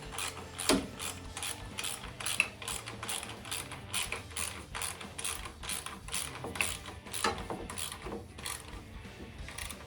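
Ratchet wrench snugging the battery cover bolts on a Harley-Davidson Dyna Super Glide, a close, steady run of rapid clicking pawl strokes for the whole stretch with a few sharper ticks, no talking.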